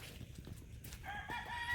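A frizzle rooster crows in the latter half while hens cluck softly before it, a close, moderately loud barnyard sound with no talking.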